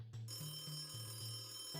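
A telephone rings in a zombie video game set in a swampy level, its warbling bell tone pulsing in repeated short bursts, fairly loud and alone with no talk.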